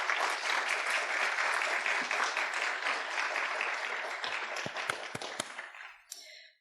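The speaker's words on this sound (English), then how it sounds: "so please give them a big round of applause" An audience at a campus reading-program event applauds steadily for several seconds, then the clapping thins into a few scattered claps and fades out.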